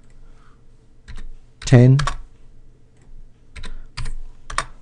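Numbers being typed on a computer keyboard, a few sharp key clicks in short bursts, with a person talking in between.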